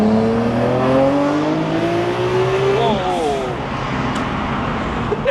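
An R33 Nissan GT-R V-Spec accelerates hard in second gear, its engine note climbing steadily in pitch before a quick shift-like dip and a fading roar, heard from inside the car.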